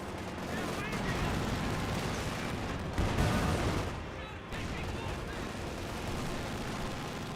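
Sustained machine gun fire from tank hull and coaxial MG34 guns in the World War II strategy game Company of Heroes 2, dense rattling bursts with a heavier impact midway, continuous and loud throughout.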